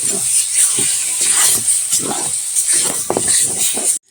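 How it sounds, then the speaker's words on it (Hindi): Pechki greens and their stalks frying in a pan give off a steady, loud sizzling hiss with crackles and a few faint clinks, continuing unbroken until it cuts off abruptly at the end. "चलिए अब अच्छे से इसको हम भून कर उतारते हैं।"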